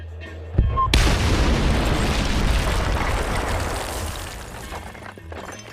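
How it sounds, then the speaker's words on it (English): Frostbite engine game audio: after a short quiet moment, a sudden loud explosion bursts out and rolls into a long, rumbling roar that slowly fades, with no clear car radio music heard over it. "listen to how the music of the radio and the explosions interact"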